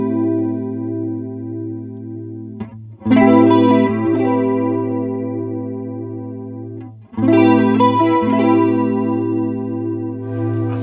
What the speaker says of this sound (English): A nice darker chorus sound